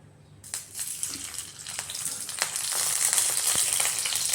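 Green chillies, broken in pieces and washed, frying in a little oil in a pan, giving a steady bright sizzle that builds and grows louder across the few seconds, with occasional crackles and no voices.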